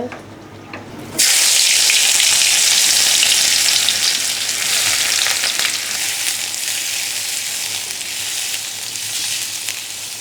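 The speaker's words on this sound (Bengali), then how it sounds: "এখন মাছ রান্না করে নিচ্ছি। মাছের তেল অনেক গরম হয়ে গেছে।" Fish hits very hot oil with a sudden loud sizzle after a quieter moment. A dense, bright frying hiss then holds steady close by, easing only slightly as it goes on.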